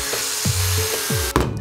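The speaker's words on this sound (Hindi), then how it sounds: "दूसरा ये मैंने यहाँ पर ड्रिल बिट का यूज किया है" A battery-powered drill driving a drill bit through material while holes are bored for a homemade electric-bicycle charger, heard as a few short whirring bursts with a sharper clatter near the end.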